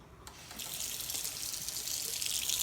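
Tap water running into a large cup: a steady close hiss of flowing water that grows slightly fuller as the cup fills, with no talk.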